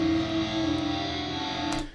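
Heavily exaggerated reverb, as if in a room made entirely of glass and mirrors, smears a sustained tone into a dense, bright, ringing wash that holds steady before cutting off near the end.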